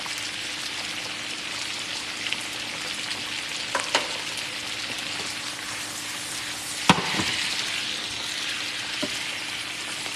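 Garlic frying with green beans in a pan makes a steady, soft, close sizzle, broken by a few light clinks and one sharper knock of a utensil against the pan.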